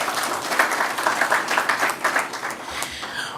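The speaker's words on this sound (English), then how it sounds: "I think they deserve a round of applause." An audience at a corporate analyst briefing gives a round of applause, with clear, rhythmic clapping from a moderate-sized group that pulses steadily, then thins and softens in the last second.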